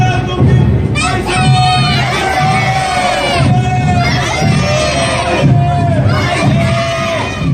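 A large crowd at a Korean independence parade in Los Angeles shouts a cheer in loud, rhythmic unison, with repeated roaring bursts of massed voices close by.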